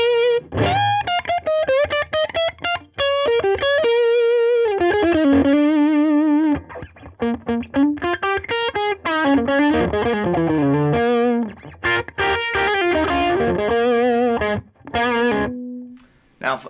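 Distorted electric guitar through a Nobels ODR-1 overdrive pedal, drive at about 5, plays a run of sustained notes and chords with gritty overdrive, loud and close, with short pauses between phrases.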